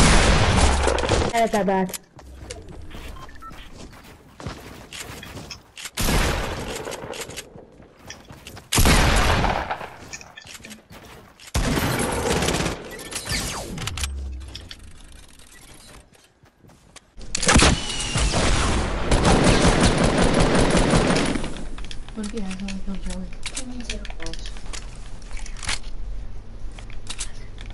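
Gunfire in a squad-based shooter video game: bursts of shots with sharp cracks, broken by gaps and mixed with loud in-game effects, while several players talk over the action.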